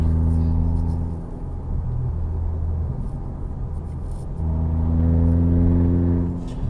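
A remapped Renault with a modified exhaust cruising along, its engine droning in a steady low hum with a slight rise in pitch, heard from inside the car with no talking.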